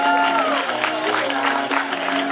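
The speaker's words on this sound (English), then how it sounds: "give one big applause for yourself" A crowd of participants claps together at the prize ceremony and closing party of a 2011 European scooter championship in Woudenberg, producing a brief burst of steady applause with tonal sounds and voices mixed in.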